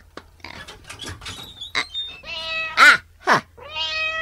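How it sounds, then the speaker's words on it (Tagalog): A cat meows repeatedly, several drawn-out, loud and close cries in a row following some soft rustling, with no talking over them. "Wen, pusa, agninyaw."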